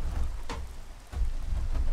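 Rain in the Minecraft video game, a steady rushing downpour with soft low rumbles, continuous and fairly loud throughout.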